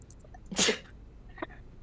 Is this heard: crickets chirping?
no